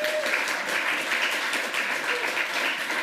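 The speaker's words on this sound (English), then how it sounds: "One more round of applause for Alex." Audience applause after a live tech demo during hacker conference lightning talks: a room full of people clapping at a steady, fairly loud level, the clapping continuous from start to finish.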